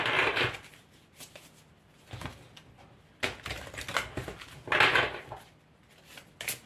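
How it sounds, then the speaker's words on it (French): Oracle cards are shuffled and drawn close by, in several short bursts of papery riffling and slapping with quieter pauses between. "alors je vais vous tirer des cartes comme ça."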